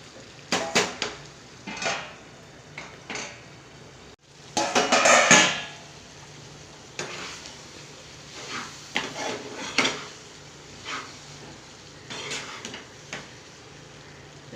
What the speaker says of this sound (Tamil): சீக்கிரம் கிண்டி விட்டு இன்னும் கொஞ்சம் நேரம் நல்லா வேகட்டும்